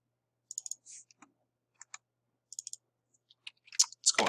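A computer mouse clicks repeatedly while dimensions are set in CREO CAD software: sparse, close single and double clicks separated by quiet gaps, ending in a quicker flurry.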